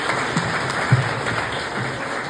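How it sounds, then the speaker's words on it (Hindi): An audience claps at a motivational talk at a college in Barmer: a steady, dense wash of applause filling the whole stretch at moderate loudness. "नहीं, तालियां बजाने से काम नहीं चलेगा, कुछ पूछो।"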